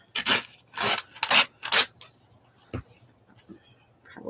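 Scissors cut and trim a glossy Game Informer magazine page from 2019: four close, rasping cuts in quick succession, then a few softer snips and paper rustles.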